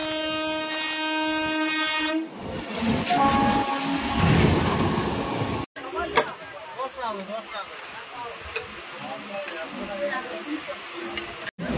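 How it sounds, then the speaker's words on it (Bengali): The Tamralipta Express overtakes a Howrah–Digha local train with a long, loud horn blast, then a rushing roar and rhythmic clatter of wheels passing close alongside, with voices faintly heard. "আমাদের ট্রেনকে ওভারটেক করছে তাম্রলিপ্ত এক্সপ্রেস"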